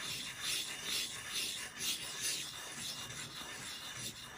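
A spokeshave blade is rubbed back and forth on a 300 grit sharpening stone at a 25 degree angle, making soft, quiet rasping strokes in an even rhythm.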